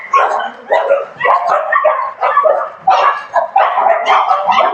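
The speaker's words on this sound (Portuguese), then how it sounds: "Uma cachorrada danada aqui, olha lá." Several dogs bark loudly and continuously nearby, a dense chorus of overlapping rapid barks and yips with brief gaps, and no talk over it.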